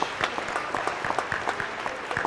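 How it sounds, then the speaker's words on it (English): An audience at a college awards and recognition ceremony applauds its award recipients, a brief, steady wash of clapping at moderate loudness heard from a little distance. "each and every one of them deserves a round of applause one more time"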